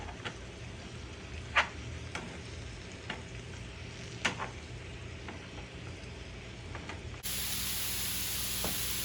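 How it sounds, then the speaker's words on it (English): Crumbled sausage chunks brown in a hot frying pan with a steady, close sizzle, broken by a few sharp scrapes and clicks of stirring, with no voices. "I got the pan going, and I'm just gonna break this up into smaller chunks"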